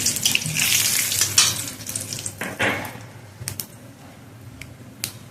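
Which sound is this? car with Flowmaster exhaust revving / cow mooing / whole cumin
whole cumin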